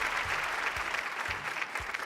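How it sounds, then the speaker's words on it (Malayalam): A studio audience applauds on a Malayalam television game show, a continuous wash of clapping heard at moderate distance with a few louder claps and low thumps underneath. "ആ ഒരു കൈയടി കൊടുക്കേ"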